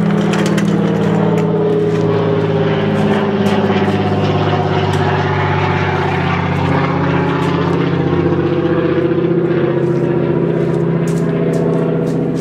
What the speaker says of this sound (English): I'll let this plane go by.